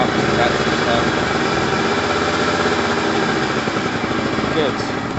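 A Pulse Force 50cc two-stroke motorbike engine runs close by at a steady, buzzing idle, with someone talking over it.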